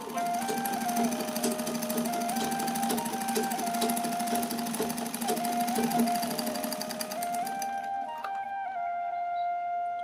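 A sewing machine stitches fabric in a steady, continuous whir that runs close and even for most of the stretch, then drops to a quieter, lighter hum near the end, with no one speaking.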